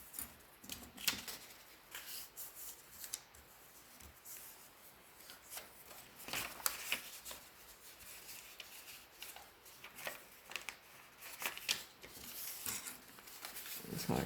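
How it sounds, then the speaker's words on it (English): Paper is folded over by hand to form an envelope, giving soft, close crinkles, scrapes and rustles in irregular bursts at low volume, with no talk. "So all I'm going to do is fold these over."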